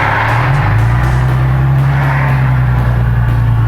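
A Nissan 370Z on new coilover suspension drives off, its engine a loud, steady low hum heard from inside the car, rising slightly in pitch as it gets moving.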